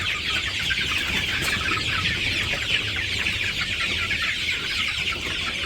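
Village chickens cluck and chatter continuously nearby, a steady dense flock sound with no talking.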